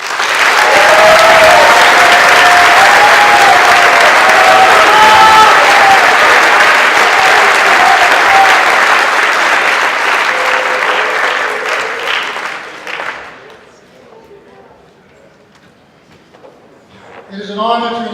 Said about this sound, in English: Please join me in a hearty round of applause in recognition of these cadets and their awards.